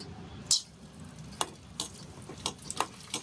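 A papad fries in hot oil, giving a soft steady sizzle broken by several sharp pops and spatters of oil, close and clear with no talking.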